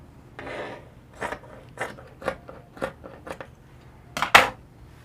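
Scissors slitting open a fabric lining, a series of separate close snipping and rasping cuts at an uneven pace, ending in a sharper final snip, with no talk.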